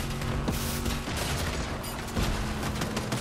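Dense, rapid gunfire from the Fortnite zero build mode in a busy fight, a continuous loud fusillade with a few sharper shots standing out.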